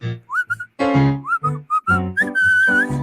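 A person whistles a bright, melodic song tune, up close and loud, the phrases broken into short separate notes before one long held pitch near the end.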